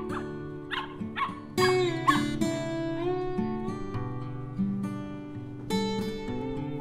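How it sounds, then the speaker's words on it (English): A puppy yips, barks and whimpers in short bursts, close and clear, over a soft background of music. "This is a puppy."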